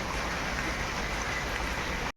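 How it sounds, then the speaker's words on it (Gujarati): Heavy rain pours by the sea during a thunderstorm, a steady loud broadband hiss with no distinct thunder clap, cutting off abruptly near the end. "દરિયામાં વરસાદ પડે છે જોરદાર ગાજવીજ સાથે"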